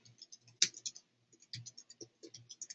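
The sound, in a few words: typing on a computer keyboard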